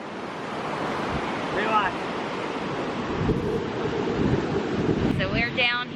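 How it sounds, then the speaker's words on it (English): Ocean waves roll in on Santa Monica beach with a constant, broad surf wash and wind buffeting the microphone, while people speak briefly over the steady roar. "So we're down here on the beach in Santa Monica, just watching the waves roll in."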